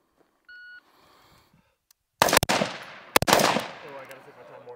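Two sharp rifle shots about a second apart, loud and close with ringing decay, fired from a kneeling position during a tactical shooting drill, preceded by a brief electronic beep and quiet.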